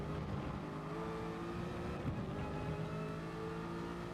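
Race cars lapping Monza, including an Aston, make a steady, continuous engine drone with a faint rising whine, loud and unbroken, with no separate pass-by.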